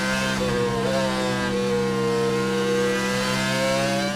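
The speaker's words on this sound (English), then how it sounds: "The engine screaming." A racing engine screams at high revs, its pitch dipping and climbing slightly, loud and sustained throughout with no other sounds.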